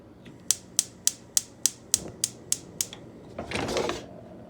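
A gas stove igniter snaps in a rapid run of about ten sharp, evenly spaced clicks, then the burner catches with a soft whoosh of flame, close by with no talking.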